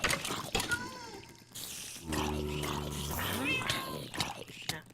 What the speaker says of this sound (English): I hear a wither cat